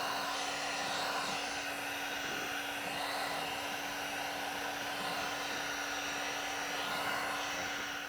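Heat gun warming vinyl wrap on a Tesla Model 3 Performance bumper, a steady whooshing blower hiss with a constant tonal whine, even and unbroken from start to finish, close by with no voices.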